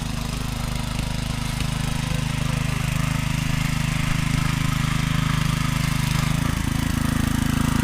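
A tractor engine runs steadily in a rice paddy, a loud, continuous low drone throughout without pause.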